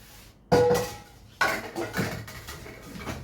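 Stainless steel pots and lids clank as they are handled, with two sharp metallic strikes followed by lighter knocks and rattles at close range, and no talking.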